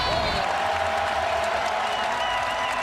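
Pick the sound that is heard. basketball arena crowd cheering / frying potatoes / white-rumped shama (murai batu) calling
basketball arena crowd cheering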